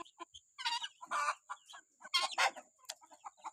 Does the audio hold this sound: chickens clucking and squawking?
yes